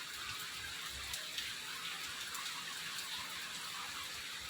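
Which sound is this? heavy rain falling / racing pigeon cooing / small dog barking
heavy rain falling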